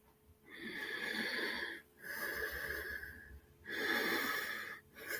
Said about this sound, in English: When you breathe, diaphragmatic breathing.